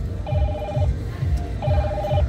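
A telephone rings twice close by, each ring a bright, warbling electronic trill with a short pause between them, over a low background rumble.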